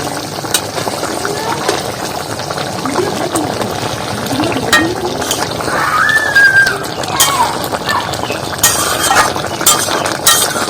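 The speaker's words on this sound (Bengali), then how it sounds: "আর সামান্য পরিমাণে গরম মশলা দিয়ে দিচ্ছি। আর একটু নাড়িয়ে নেব।" A spoon stirs an egg curry seasoned with garam masala in a pan, clinking and scraping against the metal in an irregular rhythm over a steady, close bubbling sizzle.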